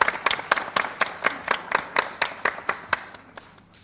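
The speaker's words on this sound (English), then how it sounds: "Round of applause for all teams" Applause for teams at a national financial literacy quiz, heard as a few hands clapping in a steady, evenly spaced rhythm that fades out at the end.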